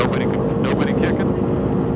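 Airliner engines run at maximum takeoff power on the runway at St Maarten, a loud, steady low roar heard from the cockpit, with brief voices cutting through it.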